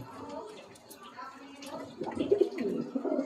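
Pigeons coo softly inside a loft kept for blood-line birds, low throaty murmurs rising louder toward the end, mixed with someone talking nearby.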